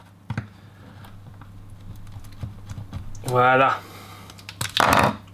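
Haribo strawberry gummy candy is cut into pieces, giving a few short, close, squishy cuts and clicks between quiet pauses, with a brief spoken word in French.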